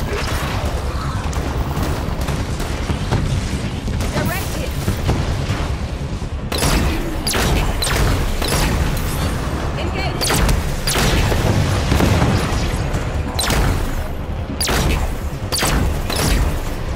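In Halo 5: Guardians, rapid gunfire and heavy explosive booms erupt while fighting Knights, loud bursts over rumbling combat, with voices talking through the battle.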